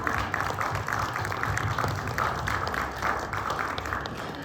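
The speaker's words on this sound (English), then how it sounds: "Give a round of applause for Dusky Lynn" An audience at the Ride Fearless Show applauds for guest Dusky Lynn, a steady mid-level patter of many hands with a faint murmur beneath, continuing evenly throughout.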